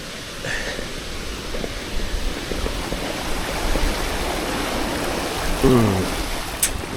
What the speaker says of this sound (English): Flooded bridge of the day. I'd be grateful if it were my last. Gonna ride across it.